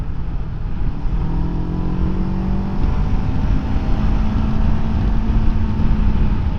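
A 2024 Kawasaki Ninja 7 Hybrid motorcycle pulls hard in sixth gear, a steady loud engine drone rising slowly under heavy wind rush, heard from the rider's position.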